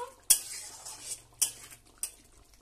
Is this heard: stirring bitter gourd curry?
yes